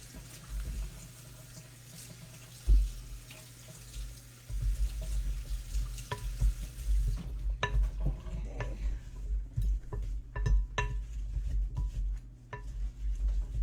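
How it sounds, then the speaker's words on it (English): An apple crisp mixture is stirred in a bowl, soft scraping and clinking of a utensil against the dish, quiet and intermittent over a low background hum, with a run of small taps and knocks in the latter half. "you're gonna give that a quick mix"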